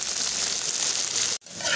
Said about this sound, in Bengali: ফুলকপি দিয়ে দিয়েছি, এবার নুন দিয়ে দেবো।